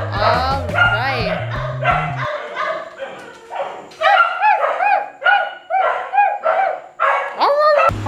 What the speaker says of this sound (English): Listen to those welcoming barks.